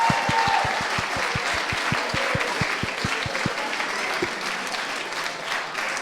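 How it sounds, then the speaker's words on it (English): Applause from a crowded room at a sales awards evening, steady and fairly loud for the whole stretch, with rhythmic low thumps underneath it through the first few seconds. "Can I just have a massive round of applause for all the speakers and for everybody this evening for coming?"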